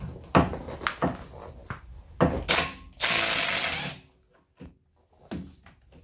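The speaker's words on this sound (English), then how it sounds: "In order to remove the brake caliper carrier, you're gonna need 18 millimeter socket." An 18 mm socket on a ratchet undoes a brake caliper carrier bolt on a Renault Trafic, Vauxhall Vivaro or Nissan Primastar van, giving a series of close, sharp ratcheting clicks and a longer grinding burst, then quieter clicks.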